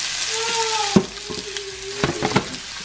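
Chopped onion and garlic hitting a hot pan of oil on a home stovetop, giving a steady close sizzle with several sharp splattering pops and clatters layered over it.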